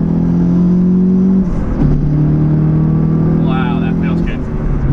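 A Renault Clio Turbo accelerates hard in second gear near 3000 RPM, with a steady loud engine drone and a brief dip around a shift, while someone talks over it.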